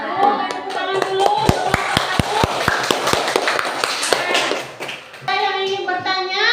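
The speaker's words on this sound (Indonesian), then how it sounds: "Tepuk tangan dulu." Classroom students clap together for group 1, a burst of sharp hand claps settling into a steady rhythmic run of about a dozen beats, with children's voices chattering around it and talk resuming at the end.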